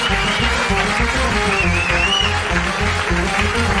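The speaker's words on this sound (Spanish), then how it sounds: "un aplauso para Ignatius Farray" Studio audience applause on a karaoke television show, a steady wash of clapping riding over a thumping rhythmic music bed that plays underneath throughout.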